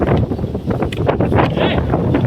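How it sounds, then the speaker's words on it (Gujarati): Strong wind roars steadily across the microphone, a loud, rough, buffeting rush with no pauses. "પવન પણ ખૂબ વાટા મારે"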